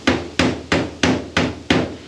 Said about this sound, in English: So we'll straighten everything out with a hammer.